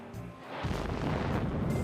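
Explosions set off on the set of a war film, a dense rumbling blast with heavy low-end boom that swells after a brief quiet start and rolls on continuously, loud and close.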